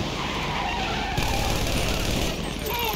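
Gunfire during a heist shootout in the video game GTA 5, a dense continuous clatter mixed with skidding vehicle noise, loud and busy throughout.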